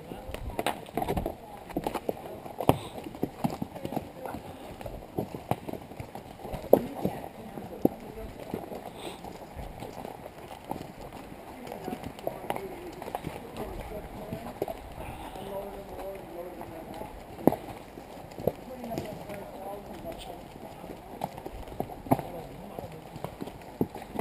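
Horse hooves clip-clop at a walk along a trail in Glacier National Park, an irregular stream of soft thuds and knocks close by, with voices murmuring faintly in the background.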